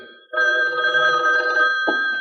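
An old telephone bell rings loudly and steadily in a radio drama scene, one sustained close ring that cuts off abruptly near the end, with no voices over it.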